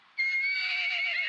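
A horse in the survival game ARK gives a single short, loud, close whinny lasting about a second, alone without talk.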